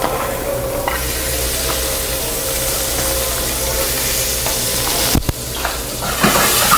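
Onions hitting a hot pan over high heat after seared, salted meat, a loud continuous sizzle and hiss with a brief clatter near the end.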